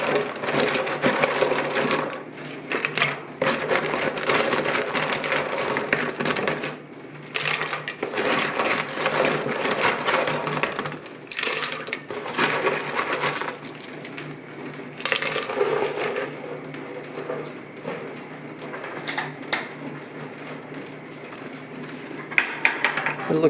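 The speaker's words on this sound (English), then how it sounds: "I'm going to throw these pieces on in." Cut chert and jasper rock pieces tossed into a tumbler barrel, a long run of continuous clattering, rattling and clinking of stones against each other and the barrel, loud and close with brief lulls.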